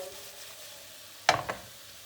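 Chicken pieces caramelizing in a covered pan are stirred, a quiet low hiss suddenly broken by a sharp clattering scrape and a second lighter scrape, then a soft sizzle.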